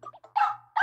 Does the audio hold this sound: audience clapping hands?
no